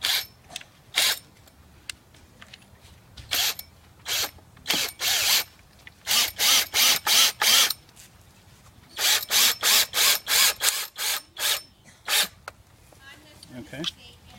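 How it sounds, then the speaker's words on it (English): Screw gun driving screws into pallet wood for a raised garden bed, heard as repeated short whirring bursts, some in quick clusters of several, close and loud with pauses between runs. "And then I'll get my screw gun and screw it down."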